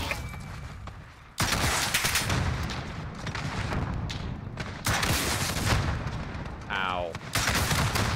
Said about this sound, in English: Are you shooting at me, boy?